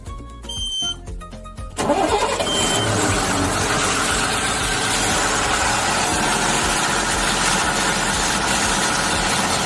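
An Ashok Leyland BS4 pickup with an RPM fault cranks over after a few electronic chimes, then its diesel engine catches and settles into a loud, steady, rattly idle close by.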